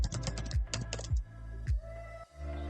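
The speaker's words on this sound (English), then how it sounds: "So I'm going to type in Perl as a programming language." Typing on a computer keyboard, a few quick bursts of key clicks close up, then a short pause and a final couple of presses, with no voices.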